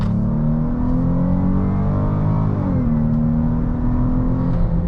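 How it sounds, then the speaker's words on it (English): A 2021 Dodge Charger GT's V6 engine accelerates under throttle from the driver's seat, a loud steady drone that climbs in pitch, dips briefly at a shift, then climbs again, with no talking. "Try giving it some gas here."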